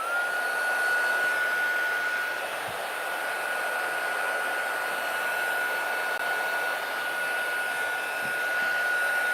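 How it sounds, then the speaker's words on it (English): A heat tool blows steadily on small craft flowers for a shabby vintage tag, a loud constant whooshing hum with a high whine, running alone and unbroken throughout. "I can just run the heat tool over this real quick"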